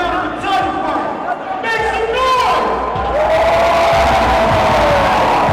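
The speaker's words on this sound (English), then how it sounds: "The Georgia National Horse Park crowd in Conyers appreciating the effort" Crowd at an MMA middleweight title bout at the Georgia National Horse Park in Conyers, loud continuous cheering and whooping with voices rising and falling, commentary mixed in.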